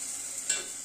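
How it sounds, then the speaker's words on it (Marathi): Onion and tomato fry in a pan for a dhaba-style veg Kolhapuri masala, with a soft, steady sizzle and a brief stir. "चांगला कांदा आणि टोमॅटो छान फ्राय झाला पाहिजे आपला"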